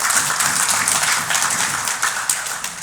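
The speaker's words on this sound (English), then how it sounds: "I didn't say that for a clap." Audience clapping at a golf tournament charity event, a dense spread of hand claps that runs through the whole stretch with slight swells and a few sharper individual claps standing out near the end.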